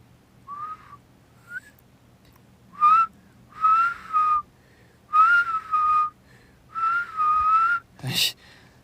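A person whistles a short melodic tune in several clear phrases with pauses between them, close and fairly loud, with a brief breathy burst near the end.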